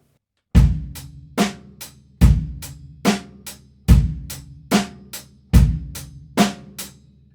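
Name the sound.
drum kit playing original boom-chak beat pattern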